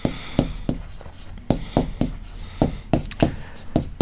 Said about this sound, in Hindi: तो हम लिखेंगे कि कौन सा बिंदु दोनों बिंदुओं के बीच स्थित है, तो हम लिखेंगे यहां